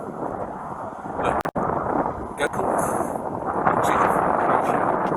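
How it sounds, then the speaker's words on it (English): Outdoor wind buffets the microphone in a loud, continuous broadband rush with brief dropouts and gusts, during a roadside exchange with a person who refuses to show registration. "it kind of gets a little windy here"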